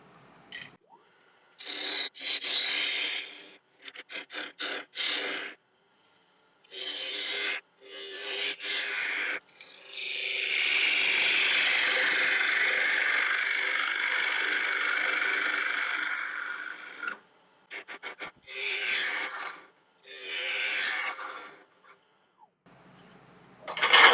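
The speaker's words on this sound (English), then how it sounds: "So now I can continue hollowing out the inside." A woodturning lathe tool hollows out the inside of an African mahogany piece, giving close, loud bursts of scraping cuts separated by short pauses, with one long continuous pass in the middle.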